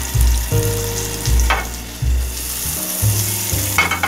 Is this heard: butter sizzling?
yes